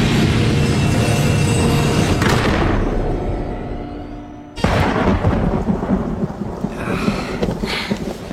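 Heavy rain pours under a long rolling rumble of thunder that fades, then a sharp, loud thunderclap cracks and rumbles on over the downpour in a thunderstorm.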